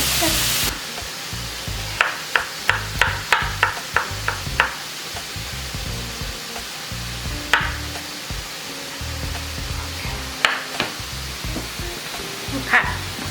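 Onions browning in a pan give off a steady low sizzle with a run of sharp clicking stirring taps, loud and close, spread through the whole stretch with no talk.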